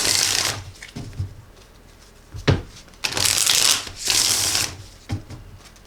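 Tarot cards being shuffled by hand, close and crisp, in several quick riffling bursts separated by brief pauses and soft taps.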